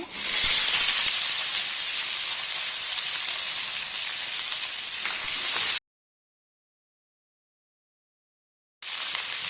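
Loud, steady sizzling hiss of ivy gourd frying in hot oil, continuous for several seconds, then a sudden silence before the sizzle resumes.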